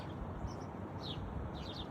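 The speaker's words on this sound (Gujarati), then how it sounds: "તમારો કલરવ, ઓહો!" Birds chirp in short, high, faint tweets over a steady outdoor background hiss, with a few scattered calls and no talking.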